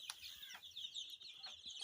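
Roughly a hundred young Sonali chicks crowded in a brooding room keep up a constant chorus of shrill overlapping peeps, fairly soft but unbroken, with a few sharper chirps standing out.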